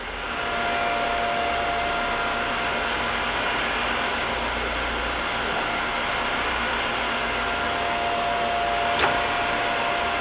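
A Kellenberger 1000U OD grinder hums steadily as its table feeds and reverses, a constant mechanical whir with a faint click near the end.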